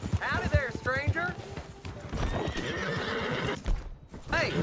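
A horse in the video game Red Dead Redemption 2 whinnies loudly and close by, with hooves clopping beneath and someone talking over much of it.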